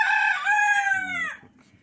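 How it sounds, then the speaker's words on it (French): A backyard henhouse rooster gives one loud, close crow that rises and then falls off sharply after about a second and a half, with no other sound around it. "Le coq adore chanter."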